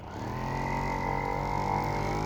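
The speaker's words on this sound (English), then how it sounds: "this definitely needs a good shake, which, excuse the noise, I have a vortex mixer" A vortex mixer shakes a hobby paint pot for a Warhammer 40k Tau army, a loud steady mechanical buzz with a rattling hum that holds at constant intensity for about two seconds.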